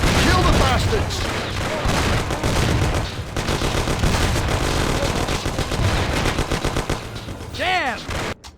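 A shootout in the video game Mafia: The City of Lost Heaven, with dense rapid gunfire and loud overlapping shots throughout. Shouting voices join in amid the shooting.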